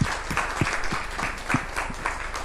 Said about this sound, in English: Je pense qu'on peut applaudir Vladyslav.